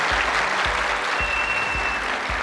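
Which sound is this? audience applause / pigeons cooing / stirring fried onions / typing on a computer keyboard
audience applause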